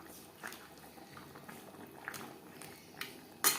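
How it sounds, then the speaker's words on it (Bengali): Gravy for rohu fish head curry with potato simmers in a pan, giving soft, sparse bubbling pops and a gentle low burble, quiet and close with no voices. "গ্রেভি বেশ ভালো করে ফুটতে শুরু করে দিয়েছে।"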